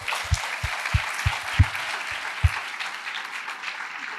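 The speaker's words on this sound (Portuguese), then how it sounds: "Vou aplaudir" Applause during a church service for athletes, a broad wash of clapping from the audience with several low thumps recurring irregularly through the first half, moderately loud and with no voices.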